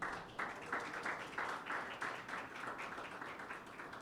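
A church congregation applauding during a Pentecost Sunday service, a faint, distant patter of rhythmic clapping that rises and falls in loose waves for a few seconds.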